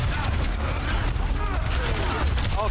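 Rapid bursts of automatic gunfire from Overwatch 2 gameplay rattle continuously and loudly throughout, densely layered with game effects and occasional voice sounds.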